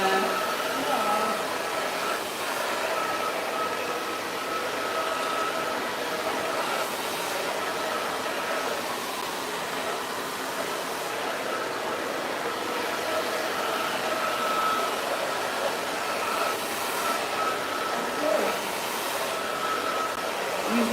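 A handheld hair dryer blows on hair, a steady broadband whooshing hum that runs unbroken and fairly loud, with no talking over it.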